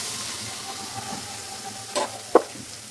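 Water poured into a hot pan of spiced vegetables with tomato, turmeric, chili, coriander and cumin paste, giving a steady soft hiss with a couple of short sharp bursts of sizzle and clatter near the end.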